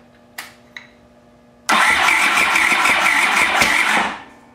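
A Honda CX500 motorcycle engine fires on its first start: after two faint clicks, the engine catches abruptly and runs loud and steady for a little over two seconds before cutting out. No speech is heard.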